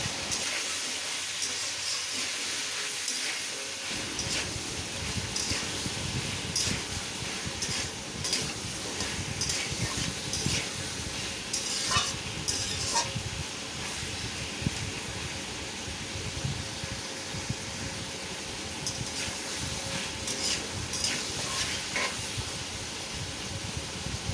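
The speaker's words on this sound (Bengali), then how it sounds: "এখন আমি সবজিগুলো ভালো করে তেলের সঙ্গে ভেজে নেব।" Mixed vegetables with green chillies fry in oil in a pan for a shrimp curry, giving a steady, loud sizzle and hiss with occasional stirring scrapes, close by and without speech.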